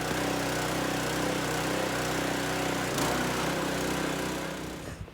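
A lawn mower engine runs steadily and loud at close range, a dense continuous drone holding through the whole stretch before easing slightly at the very end.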